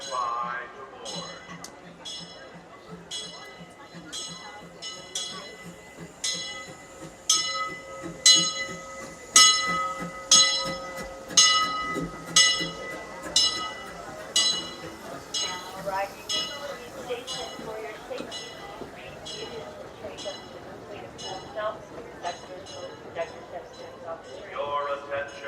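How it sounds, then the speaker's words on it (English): The Disneyland Limited train pulls in with a bright bell clanging in a steady repeated rhythm, loud and close, over rail and crowd noise at Disneyland, with announcements heard. "The Disneyland Limited, now arriving from a trip around Walt Disney's Magic Kingdom."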